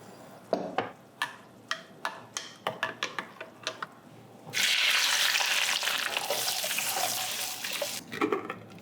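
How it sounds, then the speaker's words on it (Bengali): Cardamom pods and bay leaves drop into hot ghee in a kadai, setting off a loud, steady, close sizzle after a string of sharp clinks and knocks. "ঘিটা গরম হলে ছোটো এলাচ আর তেজপাতা দেব"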